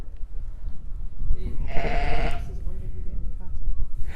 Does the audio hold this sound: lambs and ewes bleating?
yes